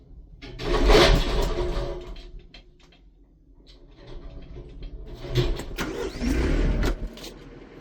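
A tractor backing up a livestock trailer on a sheep farm, its engine rumbling louder and then easing off before swelling again, with mechanical clunks over the drone.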